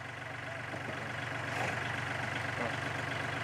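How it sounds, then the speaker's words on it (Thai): A tractor engine, driven by a woman, runs with a steady throbbing idle-like drone, loud and continuous throughout. "ผู้หญิงขับรถไถนิดหนึ่ง"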